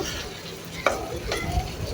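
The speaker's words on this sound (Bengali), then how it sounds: "আমার এক পিঠ ভাজা হয়ে গেছে অন্য পাশও আমি এভাবে হালকা করে" Hilsa fish pieces fry in hot oil in a pan, a steady close sizzle with a couple of short scraping clicks as the fish is turned, and no talking.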